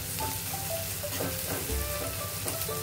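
Garlic and grated ginger frying in hot oil, a constant crackling sizzle with soft scraping stirs repeating every half second or so, close and alone.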